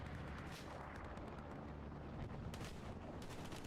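Grenades detonate in a tactical online shooter match, a dense run of rumbling blasts and sharp cracks that keep up steadily with no pause, loud and close, with no voices.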